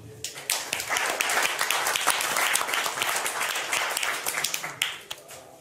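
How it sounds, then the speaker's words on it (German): Audience applause at a German ideas-camp results session, dense clapping filling the room steadily for several seconds, with scattered sharper claps and loud throughout before tapering slightly at the end. "Großen Applaus bitte."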